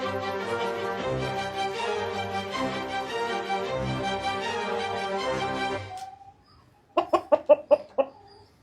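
A rooster clucks in a quick, loud run of about six sharp calls, alone after background music fades to near silence.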